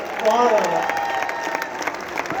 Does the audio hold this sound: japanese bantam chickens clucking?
no